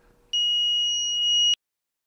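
An Arduino-driven buzzer sounds one steady, shrill electronic tone for a little over a second at night, then cuts off abruptly into near silence.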